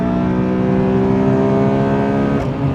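Honda Accord Euro R CL7 VTEC engine revving high, with a steady, loud, close in-cabin howl of high RPM held throughout.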